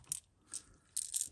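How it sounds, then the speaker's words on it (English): Small cheap Dollar Tree clamps being clamped down, giving a few quick, faint ratcheting clicks in short bursts, close and alone. "we'll go ahead and clamp this down, get these little clamps at the Dollar Tree"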